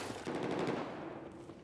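Close automatic weapon fire in Battlefield 4, a brief rapid burst of shots with a loud crack that trails off, no talking.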